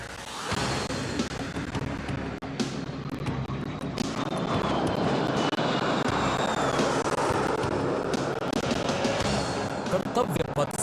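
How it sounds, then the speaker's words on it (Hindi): Military jets such as Tejas, Sukhoi and Rafale roar past in a Republic Day flypast over Kartavya Path, a broad continuous loud rushing engine noise swelling and sustaining, with crowd and ambient noise mixed in. "कर्तव्य पथ साक्षी बनेगा तेजस, सुखोई और राफेल जैसे विमानों के हैरत अंगेज कर देने वाले एयर शो का"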